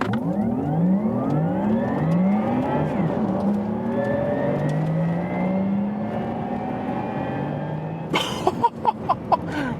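A Porsche Taycan GTS electric car launches hard with launch control on a racetrack, its rising electric motor whine climbing steadily in pitch as it accelerates, ending in a few sharp thumps and bursts of noise.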